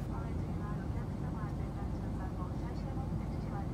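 An airplane cabin after takeoff fills with a steady, low engine hum that drones evenly throughout, with a voice audible over the drone.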